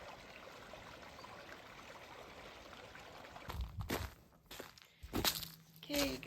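Outdoor stream on a cold spring day, its steady watery rush running throughout, with some nearby louder handling or footstep-like sounds and bumps in the last few seconds.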